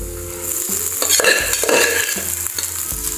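Cooked rice being stirred into a tamarind rice (puliyodarai) mixture in a pan, with repeated scraping strokes and clinks of a spoon over a constant sizzle.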